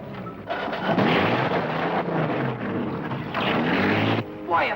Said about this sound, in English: Hold it, I hear a motorboat.